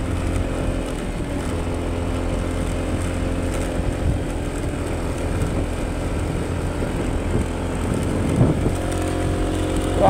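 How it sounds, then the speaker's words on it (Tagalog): A scooter engine strains under load on a steep mountain road ride, with a steady low droning hum and rising whine as it labors continuously, close to the microphone with wind noise and no speech. "Pigang-piga na yung motor ko ah."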